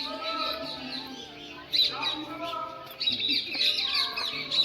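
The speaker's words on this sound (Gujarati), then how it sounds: "પક્ષીઓનો શોર" Birds chirp and call among the large trees around the Vateshwar Mahadev temple in Sidhpur. Several overlapping tweets sound fairly close in a calm outdoor setting, with a brighter, busier burst of song partway through.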